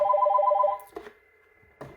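A Yealink T33G VoIP desk phone rings for an incoming call with a short, warbling electronic ring burst, followed by a couple of soft clicks in an otherwise quiet room.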